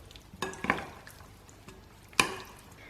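Raw chicken being mixed by hand with turmeric, salt and chili powder in a bowl, soft wet squelches and a few sharper clicks against the bowl, close and fairly quiet.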